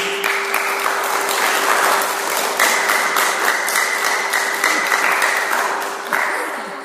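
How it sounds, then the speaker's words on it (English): Steady applause from a Buddhist teaching audience fills the clip, dense clapping with a faint sustained tone underneath, tapering slightly at the end. "give yourself a round of applause"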